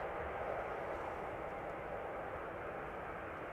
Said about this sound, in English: Dreamliner arriving from San Francisco